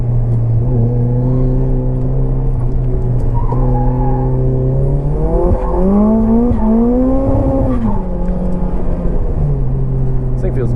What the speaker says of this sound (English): Scrubbing the tires a little bit, try to get some heat in them.